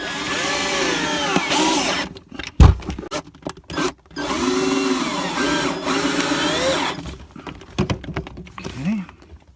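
A power drill drives screws into a camper floor during a water pump replacement, whirring in bursts that rise and fall with short gaps, close and fairly loud.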